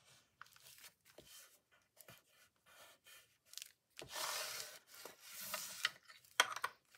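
Paper bag folded along a score line, producing soft intermittent rubbing and crinkling sounds, with a louder crisp scraping crease midway, close and quiet.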